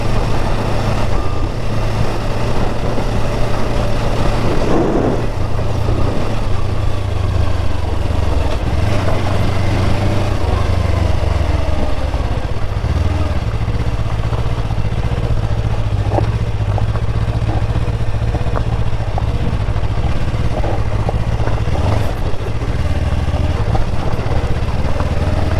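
Yamaha R3 sportbike engine running steadily while riding, a loud continuous drone with wind rush and some clatter throughout, no talk.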